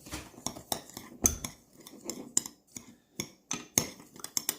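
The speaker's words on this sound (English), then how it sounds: "So I'm just going to combine all these in a bigger bowl." Beef seasonings are combined in a bigger bowl with a utensil, making irregular clinks, taps and scrapes of metal against the bowl close up.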